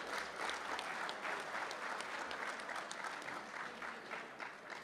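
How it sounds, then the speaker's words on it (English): Sustained applause from a large audience at a Junior Achievement of South Florida gala fundraiser night, steady and dense clapping filling the room with no speech. "give yourselves a round of applause for getting off your ass and getting here"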